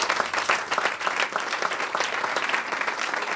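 Congregation at a church service applauding continuously, a dense wash of many hands clapping at steady loudness with faint voices mixed in.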